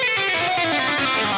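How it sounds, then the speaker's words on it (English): Dense, smeared musical tone with a long reverb wash, as if played in a gigantic concert hall, sustained and fairly loud throughout with no talk. "the reverb dial, which gives you this really cool effect of being in this gigantic concert hall"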